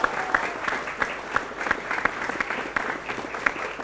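Applause from students and teachers of a Palembang junior high school gathering, a lively crowd clapping with distinct individual claps standing out, steady and moderately close.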